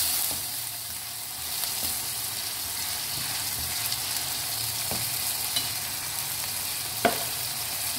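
Fish karahi masala frying in a pan makes a continuous dense sizzle with occasional clicks of a utensil stirring, steady and close, with no voices.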